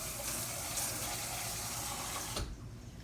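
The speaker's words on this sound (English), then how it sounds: "Rinse this can out." Tap water runs steadily into and rinses out an empty tomato can at a kitchen sink while beef and vegetable soup is being made, a continuous close splashing flow that cuts off near the end.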